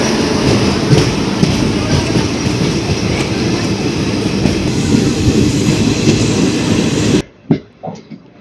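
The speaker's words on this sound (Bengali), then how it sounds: "দীঘা থেকে হাওড়া তাম্রলিপ্ত এক্সপ্রেস এখানে হয়ে গেল ক্রসিং।" The Digha–Howrah Tamralipta Express thunders past during a crossing with another train, a loud, continuous rumble and wheel clatter that cuts off abruptly, leaving near quiet with a few faint sounds.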